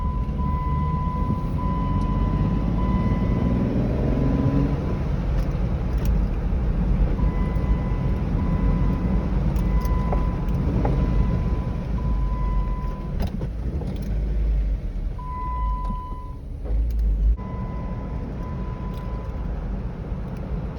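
A Jeep Wrangler fitted with new rear brakes and rotors drives a test lap, steady engine drone and road rumble from inside the cabin, continuous with small shifts in pitch.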